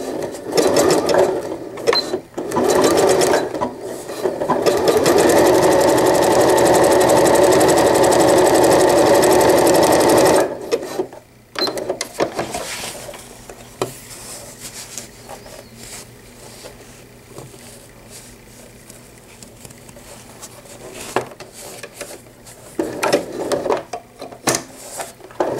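A sewing machine stitches fold-over elastic onto a fabric diaper cover, running in a loud steady whir for several seconds, then stopping and starting in shorter bursts with quiet pauses between them.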